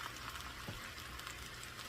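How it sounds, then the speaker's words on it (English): Steady hiss of sliced squash frying in a pan, a continuous bubbling crackle with no talking. "So you can hear it starting to sizzle."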